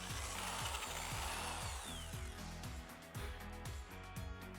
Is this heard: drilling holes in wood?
yes